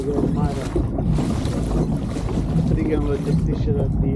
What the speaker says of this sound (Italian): troppo vento